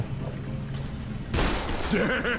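A sudden burst of blasts and gunfire erupts midway through a steady background of Dead Island game noise, with a voice murmuring underneath.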